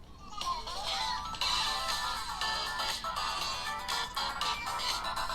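An Infinix Note 30 phone speaker plays a ringtone, a fairly loud, bass-backed electronic melody that runs continuously from start to finish with no voices.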